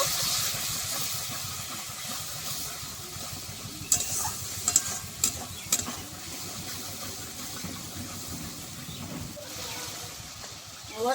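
Spice paste with yogurt and sugar being stir-fried for a rui fish curry, a steady hissing sizzle with a few sharp spatula scrapes and clinks, no talking.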